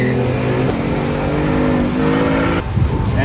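Tuned 2023 Hyundai Elantra N four-cylinder and 2018 Ford Mustang GT V8 engines droning loudly and close, a sustained rising tone that shifts abruptly near the end, with no talking.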